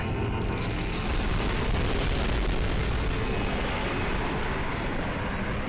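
Loud, continuous booming explosions from a bomber roll together with a heavy aircraft drone, a dense rumbling wall of noise with no pauses.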